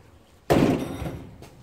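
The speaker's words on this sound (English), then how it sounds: "I'm going to open the door." A door opened during lithium-ion battery cell replacement work, one sharp thunk close by, followed by a short fading rattle and a faint knock at the end, with no talking.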